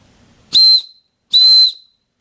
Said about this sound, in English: The whistle in the top.